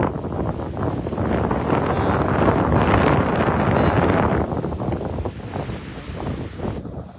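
Strong gusty wind roars across the microphone at the exposed shoreline by Calshot Castle during a stand-up paddleboard race, with surf rumbling beneath. The noise is loud, steady and continuous, easing slightly toward the end.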